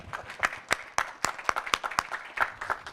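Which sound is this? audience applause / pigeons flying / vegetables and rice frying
audience applause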